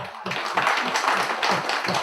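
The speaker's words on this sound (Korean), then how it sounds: "박수 한번 하고 싶은 사람" Church congregation clapping together during a sermon, a steady wash of hand claps with slight rhythmic surges, fairly close and continuous, no voices over it.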